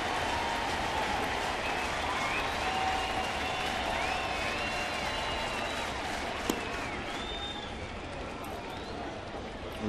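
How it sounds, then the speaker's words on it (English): Baseball stadium crowd at a Marlins versus Cardinals game in St. Louis, cheering and applauding: a steady, broad wash of clapping and crowd roar lasting throughout, with scattered whistles and shouts heard at a distance. "Crowd showing some energy."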